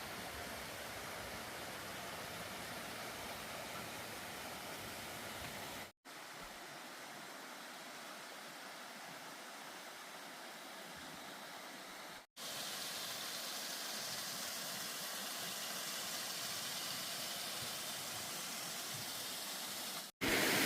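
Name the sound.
rainwater running down a trail like a river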